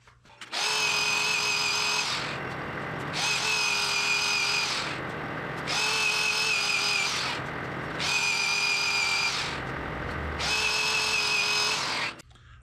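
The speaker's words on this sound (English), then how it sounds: "I'm going to now sand up this small area" Sandpaper pressed against a small wooden bowl spinning on a woodturning lathe gives a steady, loud whine in five long passes with brief lifts between them, close up, with no voices.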